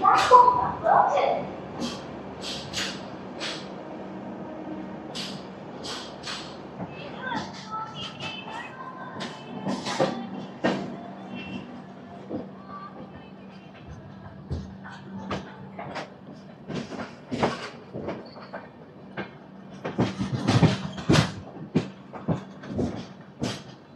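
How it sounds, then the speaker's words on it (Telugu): The Garib Rath express from Secunderabad to Visakhapatnam rolls past with rumbling rail clatter and irregular wheel knocks, heard under someone talking throughout. "అక్కడ కనిపిస్తున్న ట్రైన్ వచ్చేసరికి సికింద్రాబాద్ నుంచి విశాఖపట్నం వెళ్ళే గరీబ్ రథ్."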